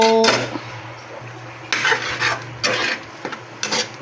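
Pork cubes are stirred in a cooking pot for a Filipino ulam, a close, scraping and rubbing sound in several short bursts with pauses between them.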